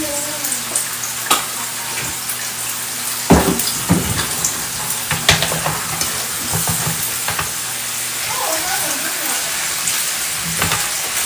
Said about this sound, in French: l'essentiel, c'est de faire bien sauter les oignons